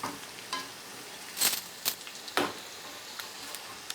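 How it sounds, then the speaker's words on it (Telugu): Amaranth leaf pakodi fry in hot oil over a high flame, giving a soft, constant sizzle broken by scattered sharp crackles and clinks from stirring, heard close with no speech. "పకోడీలు వేగుతున్నప్పుడు కూడా మనం స్టవ్ని హై ఫ్లేమ్లో పెట్టుకుని వేయించుకుంటేనే మనకి"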